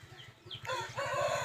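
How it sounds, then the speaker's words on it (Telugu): A short-nose long-tail rooster crows once nearby, a loud strained call rising over soft clucking, with no talk. "షార్ట్ నోజ్ పుంజు"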